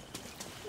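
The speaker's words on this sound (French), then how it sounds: "je vais prendre le cheval" Horse hooves clip-clop in the Far Cry 6 video game, a few soft, quick hoofbeats over a steady background hum in a very short moment.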